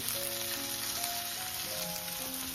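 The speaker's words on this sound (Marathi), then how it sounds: "बाकी 5 मिनिटात सर्व मच्छी फ्राय होईल." Fish frying in a pan over a wood-fired clay stove gives a steady, close, loud sizzle with crackling, continuous throughout and with no voices.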